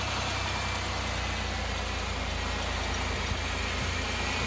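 A GM 3.8 liter V6 in a 2005 Pontiac Grand Prix idles with a steady, low, even rumble that holds constant throughout, with no talking over it.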